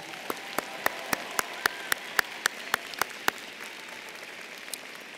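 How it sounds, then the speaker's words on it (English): Audience applause at a university College of Education spring commencement ceremony: a soft, steady wash of crowd clapping, with one nearby person's sharp, evenly spaced claps standing out clearly before trailing off. "Please join me in another round of applause for the honor students."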